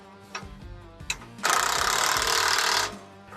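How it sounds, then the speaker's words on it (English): An impact wrench rattles on tractor lock nuts in one loud burst of about a second and a half, preceded by a few sharp metallic clicks. "they are lock nuts, so I do recommend an impact just for simplicity"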